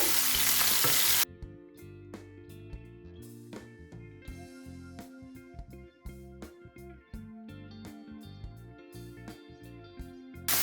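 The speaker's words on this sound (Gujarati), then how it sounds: "લસણ થોડું લાલ થાય ત્યાં સુધી આપણે એને સાતળી લેવાનું છે" Coarsely crushed ginger and garlic with cumin fry in a pan for dal, a soft steady sizzle running beneath louder background music with sharp rhythmic hits.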